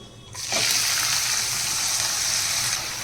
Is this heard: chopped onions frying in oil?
yes